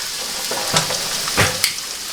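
Food browns in a hot pan with a steady soft sizzle, broken by a few brief louder crackles and stirring sounds, close up with no talking.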